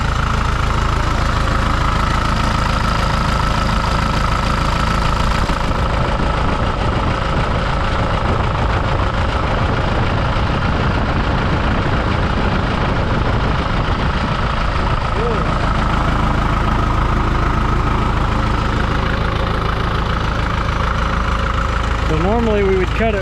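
A Farmall MD tractor engine idles steadily after startup, a loud, close, continuous low rumble with even knocking pulses throughout, with someone talking over it.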